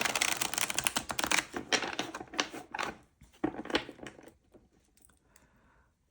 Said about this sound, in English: So I'm just going to shuffle this.